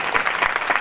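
A short burst of audience applause from an assembly in a Swaminarayan temple in Lunwada, with rapid, dense clapping at close range.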